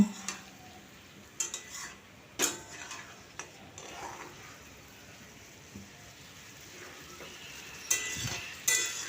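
Ridge gourd is stirred in a wok with a spatula, giving scattered soft scrapes and clinks of metal against the pan at irregular intervals over a quiet background, with a faint sizzle between strokes.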